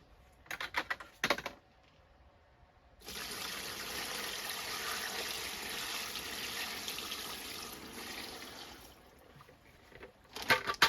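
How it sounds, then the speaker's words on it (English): Water poured into a bag of completely dry clay scraps sitting in a bucket, a steady rushing trickle lasting about six seconds, framed by plastic bag rustling and crinkling before and after. "Then I pour water in."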